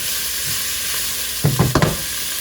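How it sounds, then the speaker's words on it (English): Onion, celery and garlic sautéing in a soup pot, a steady soft hiss with a short cluster of three or four stirring scrapes and crackles near the end. "he's gonna brown the veggies real quick, saute the veggies for like what, 2-3 minutes?"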